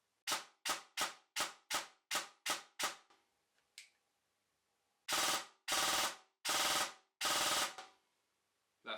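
Airsoft gun fitted with a T238 brushless motor on a 7.4V battery fires single shots: seven sharp, quick cracks in a steady row, a brief lull, then four louder, longer shots spaced evenly.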